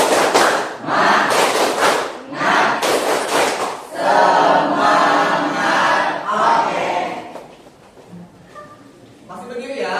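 A group in a school coaching session performs a rhythmic spirit clap, with bursts of unison clapping and shouted chants mixed with voices, fading toward the end.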